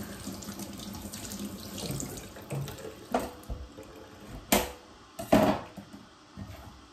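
Tap water runs steadily into a kitchen sink as freshly harvested lemons are rinsed, with several louder splashes and clunks from handling the fruit near the faucet.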